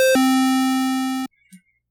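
A single sustained chiptune square-wave note from a 3xOsc synth, bright and buzzy with rich harmonics, held steadily for over a second before cutting off abruptly, followed by a faint blip.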